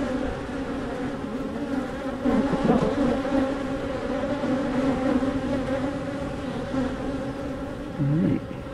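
Honey bees buzzing around an open hive during frame inspection, a dense, close, continuous droning hum with individual bees rising and falling in pitch as they pass the camera.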